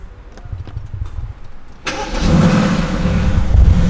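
A car engine cranks and fires up after a quiet moment, then settles into a steady, close idle with a low rumble.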